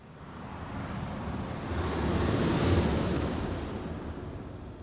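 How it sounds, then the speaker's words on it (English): Ocean waves washing ashore at Búzios, Brazil, a soft swelling roar that builds and recedes, with some wind noise and no voices. "let's get back to the sound of the ocean in Búzios."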